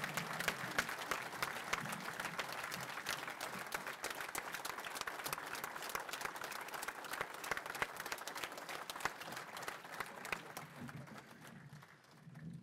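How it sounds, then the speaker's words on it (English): A crowd at a labor gathering gives sustained applause, dense even clapping that runs loud for most of its length before thinning out near the end. "Let's give that man a round of applause for standing with workers."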